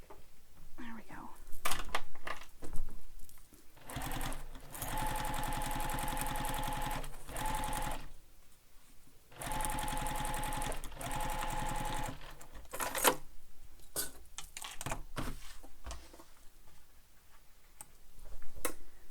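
Home sewing machine stitching a backpack seam in bursts, a steady whirring run of needle strokes broken by pauses, with a quiet voice speaking between the runs.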